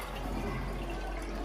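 Water pours steadily into a tank, a continuous full rushing fill with no pauses and no voices.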